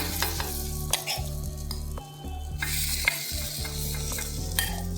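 Batter for sweet corn appe sizzles loudly in ghee in an appe pan, a steady crackling fry with a low rhythmic hum underneath and a few brief dips, with no talking.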